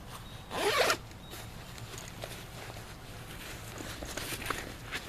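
A zipper on a small compartment of a Camelbak Squadbak hydration pack is pulled open in one quick, close rasp, followed by faint handling rustles.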